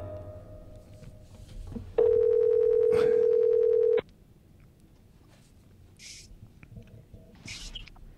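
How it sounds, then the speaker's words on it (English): An outgoing telephone call rings with a single steady ringback tone lasting about two seconds, loud and clear against a quiet background, followed by near silence and faint rustling. "We're ringing."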